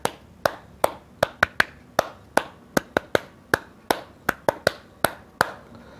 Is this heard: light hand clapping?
yes